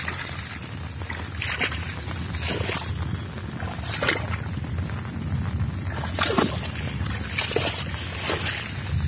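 Feet wade through a flooded bajra millet field after monsoon rain in Sikar, with repeated sloshing splashes every second or so, close and fairly loud, amid muddy water noise.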